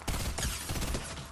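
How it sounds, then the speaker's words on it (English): Rapid gunfire in the Fortnite video game, a dense burst of overlapping shots with a rattling, crackling texture, loud and continuous for over a second, with no talking. "I think someone is shooting at me"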